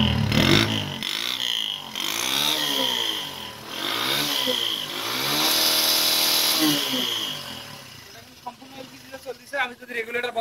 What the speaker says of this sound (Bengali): তো আমি বাইকটা স্টার্ট করে দেখাই,